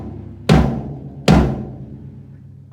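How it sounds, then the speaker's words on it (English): Two deep, resonant hits on a 13 by 9.5 inch floor tom tuned to 96 top and bottom, each booming and then decaying with a warm low ring, played alone and close. "this floor tom is actually smaller than the second tom"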